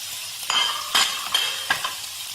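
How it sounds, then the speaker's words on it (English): Pancetta fat and sliced red onion fry in a pan, a soft steady sizzle broken by three or four sharp stirring scrapes close up. "I'm going to add that to the pan, followed by the sliced red onion"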